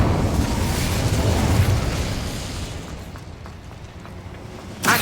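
A Bombarda blast spell in the video game Hogwarts Legacy erupts as a loud, broad boom that rumbles and slowly decays over several seconds, with a second sharp burst near the end.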